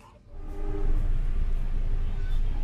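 The KA Airlangga passenger train running through Cirebon station, heard from inside as a loud steady rumble of wheels and carriage noise that swells up after a quieter start and holds.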